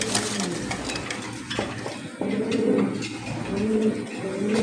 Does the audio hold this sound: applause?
no